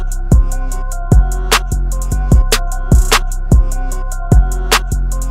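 A mixed drum pattern built in FL Studio: a deep, sustained 808 bass under punchy kicks, with crisp hi-hats ticking steadily over a loud, regular, hard-hitting groove and no voices.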